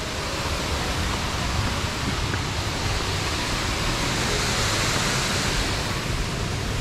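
A waterfall beside a trekking path in the Val Sanagra gorge near Como, heard as a steady, loud, full roar of rushing water that never lets up and fills the whole stretch with no voices.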